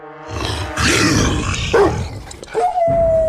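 A dog sound effect for a Filipino horror story about aswang: a loud, close growling roar followed by rising howl-like cries, with no talking.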